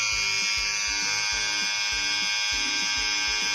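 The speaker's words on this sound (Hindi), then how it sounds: "ट्रिमर से बाल ही काट देती हूँ" An electric hair trimmer buzzes steadily and loudly, cutting hair with a continuous whine and a regular pulsing rhythm throughout.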